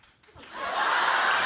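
A studio audience on a daytime talk show breaks into applause, swelling from quiet to a steady wash of clapping.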